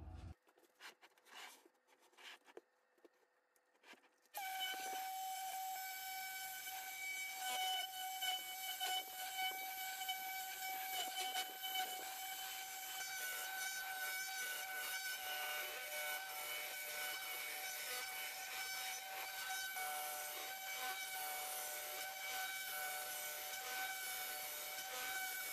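A router riding on a router sled flattens a piece of oak barrel stave. After a few seconds of quiet handling noises it starts up, and its steady, loud whine with a rough cutting hiss runs on without a break.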